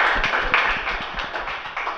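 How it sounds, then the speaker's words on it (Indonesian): A classroom group claps for the first presenting group of students, a dense run of quick, fairly close hand claps held steady for about two seconds with no talk over it. "Kita beri tepuk tangan untuk kelompok 1"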